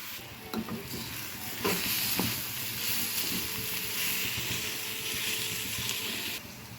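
Onions with cumin seeds and salt sauté in a pan with a steady, fairly loud sizzle, broken by a few sharp spatula scrapes and taps early on.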